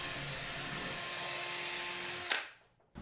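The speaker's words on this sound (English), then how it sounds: "I'm going to spin this impact driver around in here to ream it out a bit" A power tool whirs steadily as an impact driver spins inside a Phillips head screw to ream it out, the drive noise running loud and continuous for over two seconds before cutting off, followed by a brief quiet and a short restart.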